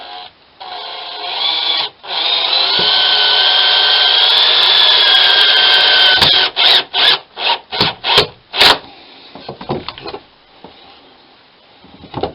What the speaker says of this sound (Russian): Когда просверливаешь, саморез не дает доске трещину, не лопается.